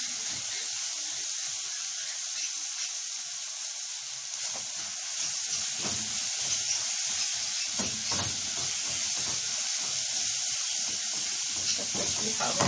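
Onion, zucchini and chickpeas sautéing in a pan, a continuous bright hiss and sizzle throughout with soft stirring clatter growing busier midway.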